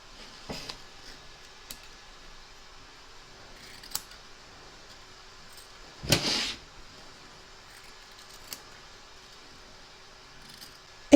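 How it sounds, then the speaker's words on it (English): Scissors trim excess batting from around the stitched edge of a mermaid and dolphin appliqué in a quiet room, with faint scattered snips and one longer cutting sound midway. "Trim away your excess batting from around the edge of the stitch line"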